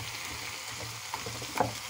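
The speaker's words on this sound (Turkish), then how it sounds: "Şimdi soğanları bir güzel soteleyeceğim." Onions sautéing in a pan for onion soup give off a quiet, steady sizzle with a few faint clinks and stirs near the end, and no voices.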